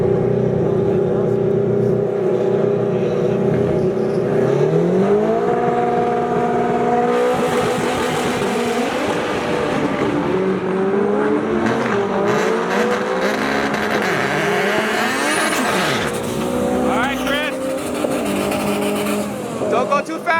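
A bracket racing car in the 11.50 class launches down a drag strip, its loud engine climbing in pitch through the gears with tire noise, while excited voices shout close by.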